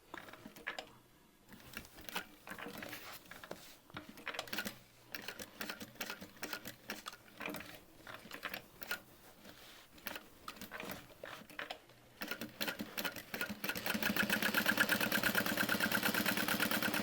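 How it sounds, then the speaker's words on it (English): A sewing machine stitches around the edge of a handbag overlay in repeated close, rhythmic bursts of whirring with brief stops between runs, then a louder steady hiss takes over near the end. "then we'll start sewing around the outside edge of the overlay"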